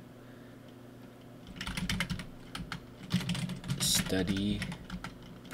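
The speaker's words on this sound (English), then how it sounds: "I'm going to type in" Typing on a computer keyboard at a trading-chart desk, with quick runs of clicking keystrokes in two bursts while someone speaks over them.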